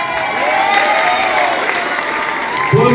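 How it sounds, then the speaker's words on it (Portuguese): Outdoor crowd gathered in a public town square applauding and cheering steadily, a dense wash of clapping with scattered shouts, fairly loud throughout, with a louder burst near the end. "que a aplaude aqui em praça pública"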